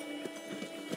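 Horse hooves clip-clop at a steady riding pace in the Red Dead Redemption video game, a few soft, evenly spaced hoof falls close by with no talk.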